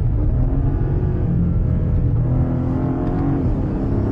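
A car engine pulls hard as the throttle is reapplied out of a corner, a loud, steady, close rumble with rising harmonics that swell through the four seconds, no talking over it.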